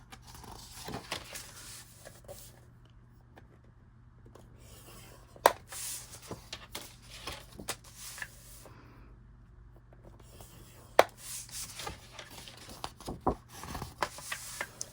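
Paper flaps for an interactive album are scored at a half inch, giving close, quiet scraping and rubbing strokes in repeated bursts separated by short pauses, with no talk.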